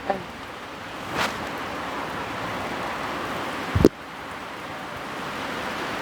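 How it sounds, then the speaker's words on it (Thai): Heavy rain pours down outside a new house, a dense steady roar of water with a couple of brief louder bumps and rustles, close by and unbroken for several seconds. "ฝนถล่มเลย"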